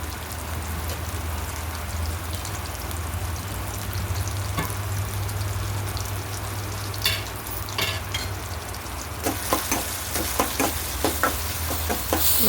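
Half a tomato frying in oil in a pan, a steady close sizzle with a low hum under it, broken by sharper crackles and stirring clicks toward the end.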